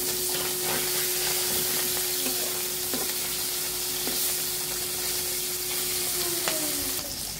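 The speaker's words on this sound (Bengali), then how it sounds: "আমরা এখন মাছগুলো তেলে ভেজে নিব।" Fish frying in hot oil, a dense steady sizzle filling the whole stretch with scattered pops and crackles, accompanied by a constant tonal hum and occasional light clinks of a utensil.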